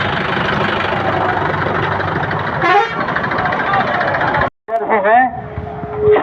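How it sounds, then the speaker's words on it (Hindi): A tractor rumbles along a road in Paliganj at a farmers' rally, its engine idling and chugging loudly and continuously, with a brief horn-like tone near the end after a short gap. "ये देखिए संदीप सौरभ जी ट्रैक्टर चलाते हुए विधायक जी नजर आ रहे हैं।"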